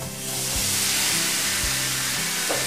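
Live shrimp sizzle and spatter as they fry in a pan, a steady loud hiss filling the clip with a few low thumps and pops beneath it, no talk.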